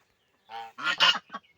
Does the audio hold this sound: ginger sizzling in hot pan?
no